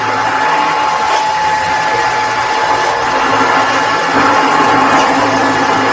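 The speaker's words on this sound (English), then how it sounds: "this is specifically cleaning with hot water" A Dreame H15 Pro Heat washing vacuum cleaner cleans a floor with hot water, giving a loud, steady motor whir with a constant high hum throughout.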